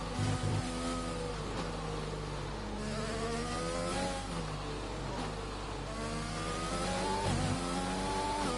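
A McLaren Formula 1 car in F1 2020 approaches with a high, rising engine whine, revving through shifts and growing nearer over a constant car drone.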